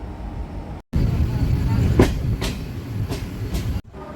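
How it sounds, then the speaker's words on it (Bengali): Jaynagar–Rourkela express train pulling away, a steady loud rumble of rolling wheels and carriages with periodic rail clacks, broken by two brief cutouts of silence. "5 মিনিট দেরি করেই আমাদের ট্রেন ছাড়লো।"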